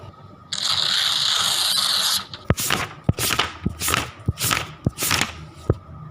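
Paper crinkles and rustles up close: a long continuous rustle, then a series of sharp crackling bursts in an irregular rhythm.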